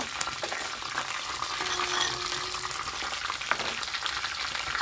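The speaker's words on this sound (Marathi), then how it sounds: "तेल पण चांगलं गरम झालं आहे त्यामध्ये आता आपण लसूण टाकू लसूण चांगला तळला आहे मोहरे टाकली" Garlic, mustard seeds and cumin frying in hot oil give a steady, close crackling sizzle with fine popping throughout, no voices over it.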